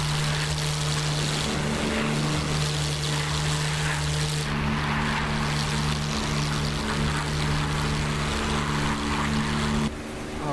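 A WW2 propeller airplane engine in a video game, a loud, steady droning hum with a low tonal pitch that holds almost unchanged throughout, dipping only briefly near the end.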